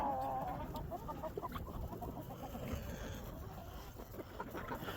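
Blue lace-threaded Wyandotte hens cluck in a farmyard in winter, with a steady run of soft, close clucks and scratchy movement that fills the clip without pause.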